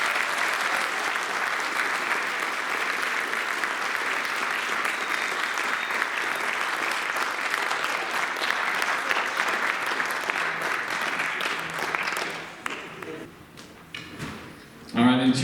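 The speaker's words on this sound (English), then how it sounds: "Give them a round of applause." At a high school soccer awards night, the audience applauds the eight senior players with long, steady clapping, then breaks into scattered claps, a few thuds and murmured talk near the end.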